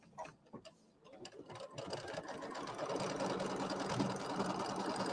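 An embroidery sewing machine stitches a batting tack-down line on a quilt border, starting with a few separate clicks and then settling into a steady, fast, close mechanical whir that builds slightly in loudness.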